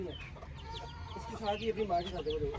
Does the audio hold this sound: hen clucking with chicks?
yes